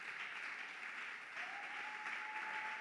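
Church congregation applauding to acclaim the Lord: steady, continuous clapping from many hands, even and fairly faint throughout, with a brief thin whistle-like tone partway through.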